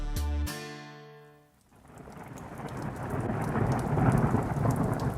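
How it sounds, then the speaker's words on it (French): A thunderstorm begins with a loud, close thunderclap that rumbles away into near silence. Heavy rain then swells in and pours steadily, growing louder toward the end, with no voices. "L'orage arrive, entrons vite."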